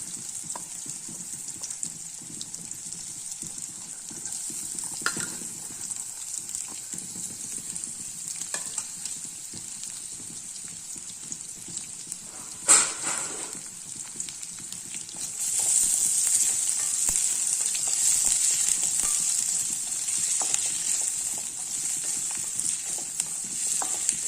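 Potato, carrot and capsicum fry in a pan with a soft steady sizzle, broken by occasional stirring scrapes, and the frying grows louder and brighter in the second half.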